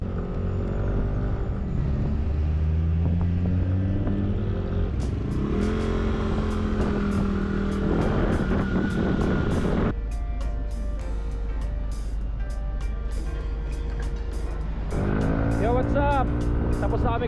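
A rented Yamaha Aerox 155 scooter rides through Baguio, its engine droning continuously and rising and falling in pitch with throttle changes, close and loud throughout with other sound layered over it.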